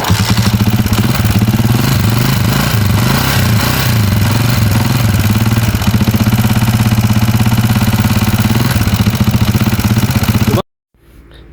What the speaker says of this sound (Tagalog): pakinggan muna natin yung andar ng kanyang makina bago natin ito baklasin